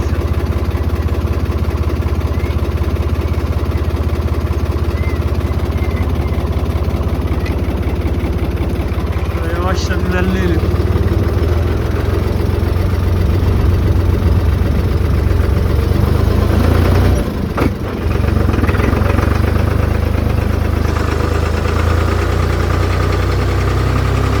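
A Lamborghini Crono 55 tractor engine idles loudly and steadily up close, a continuous low throb with a brief dip near the end, faint voices under it.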